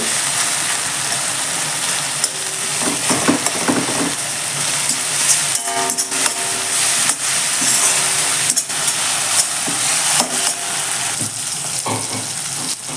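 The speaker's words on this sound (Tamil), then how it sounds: "வதங்கிச்சான்னு பார்க்கலாம் இன்னும் கொஞ்சம் வதங்கணும் தக்காளி" Tomatoes sauté in a pan for a mushroom gravy (kalan kulambu): a steady, close, broadband sizzle runs throughout, with scattered clicks and scrapes from stirring and no talking.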